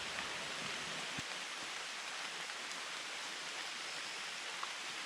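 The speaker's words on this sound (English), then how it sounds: "it's not raining terribly hard. It's just kind of off and on spitting now" Light, intermittent rain patters outside at a backpacking campsite in Virginia, a soft steady hiss with a few faint drops, quiet and even throughout.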